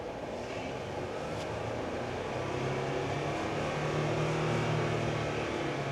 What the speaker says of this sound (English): You can hear it. Things revving up.